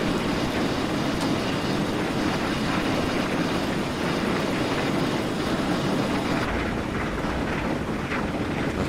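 A steam train in Train Simulator on the Riviera Line, set in the 1950s, rumbles along at around sixty miles an hour hauling a heavy load, a steady dense rolling roar with wind-like rush and no voices.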